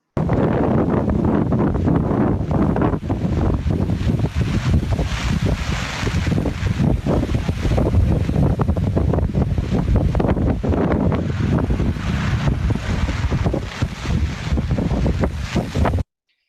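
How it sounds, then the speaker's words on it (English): Strong wind on St. Paul Island in the North Atlantic roars continuously, buffeting the microphone with loud, gusty rumbling and hiss that never lets up. "That was one of the smaller wind events."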